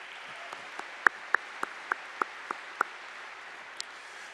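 Applause rises for the top graduates of the class of 2020 at a high school graduation ceremony, a soft, thin background of clapping with a few sharper, louder claps standing out at irregular intervals.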